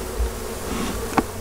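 Honey bees hum steadily around a hive at a Colorado beekeeping operation, a continuous close buzz with one brief louder pass near the end.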